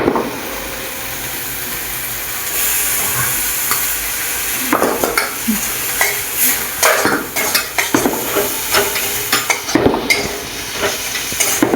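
Chicken pieces sizzle steadily in a hot pan while a utensil stirs and scrapes against the metal in quick irregular strokes, close and fairly loud, no voices.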